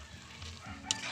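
A pot of shrimp and sweet potato leaves boiling, giving a soft, steady bubbling and sizzling hiss with a brief sharper pop near the end, heard close up with no voices.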